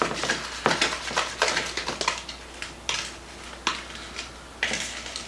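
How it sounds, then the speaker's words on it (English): A whisk clinks and taps against a mixing bowl while batter for Hungarian kifle cookies is mixed, a quick irregular run of light metallic strokes up close, with no voices. "I'm using my whisk."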